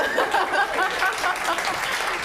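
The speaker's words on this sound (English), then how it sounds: "So please give them a rousing applause for graduating our program." Graduating cooking students get a short burst of audience applause, moderately loud clapping that sounds a little muffled and continues throughout, with faint voices in the crowd.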